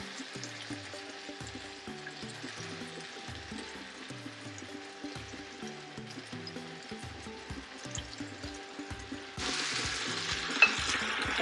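Spinach sautéing in a pan with rib juices, a steady soft sizzle and frying hiss with stirring scrapes, growing brighter and louder near the end.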